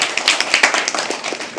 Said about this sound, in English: Can we please have a round of applause for every single person?